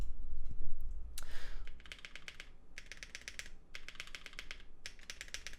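Typing on a Bakeneko mechanical keyboard fitted with Durock L7 switches: steady, close bursts of clacky keystrokes in a fast rhythm, with short pauses between runs and one louder thump near the start.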